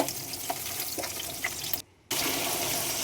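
Water running steadily into a cooking pot to boil potatoes in a home kitchen, a continuous splashing stream with a brief pause near the end before it resumes.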